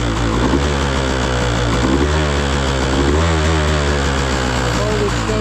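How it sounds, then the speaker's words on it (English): An engine being revved during oil injection diagnostics, with a steady loud motor drone whose pitch climbs and wavers as the throttle opens, running continuously throughout. "When I rev the motor,"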